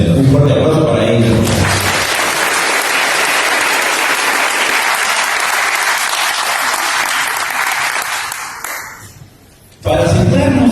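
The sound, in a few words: audience applause at cooking exhibition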